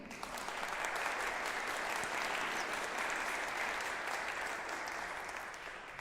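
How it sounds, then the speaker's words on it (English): Sustained applause from an audience at a church annual meeting, a steady dense wash of clapping that holds for the full span and tapers slightly at the end. "We're also applauding someone"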